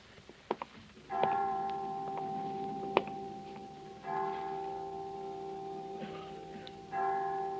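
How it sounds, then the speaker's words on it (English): Chimes at a children's home ring out a slow sequence of clear, sustained bell tones with long ringing decay, several strikes spaced a second or more apart, heard alone against a quiet background with a few faint knocks. "I didn't know the children's home had chimes."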